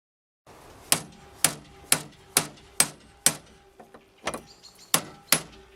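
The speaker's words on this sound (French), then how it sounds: "je vais essayer en essayant de casser au marteau burin." A hammer drives a cold chisel against a locked door's lock cylinder: about ten sharp, loud metallic blows at a steady pace, struck close by with short ringing decays, and a few lighter taps near the end.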